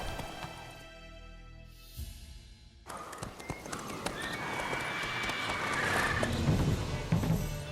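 Geralt's horse Roach in The Witcher 3 video game, its hooves clopping in a steady galloping rhythm that grows louder and denser as the horse speeds up, mixed with surrounding game ambience.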